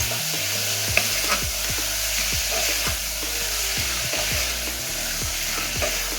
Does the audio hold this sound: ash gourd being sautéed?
yes